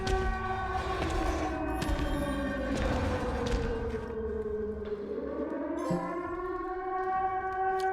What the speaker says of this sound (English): Like the sirens start playing